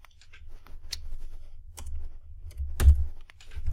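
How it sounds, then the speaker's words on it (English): Someone types a name on a computer keyboard while working in Photoshop, producing irregular clusters of close, crisp key clicks with brief pauses between bursts. "I'm going to type out my name."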